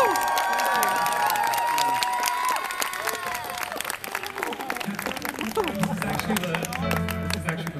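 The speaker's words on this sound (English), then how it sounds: "Please give a huge round of applause." Applause and cheering from a concert crowd at a furry convention Friday show, a dense wash of clapping with shouts and whoops, loud and sustained, with low music or rumble entering near the end.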